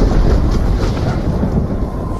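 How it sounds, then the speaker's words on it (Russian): Thunder from an approaching thunderstorm rumbles as a loud, continuous low roar with a rain-like hiss, steady throughout and with no voices. "Шторм приближается!"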